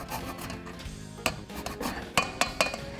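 The green peel of an apple is grated for an apple cake, making rough, rhythmic rasping strokes, with several sharp metallic clinks of the grater near the end.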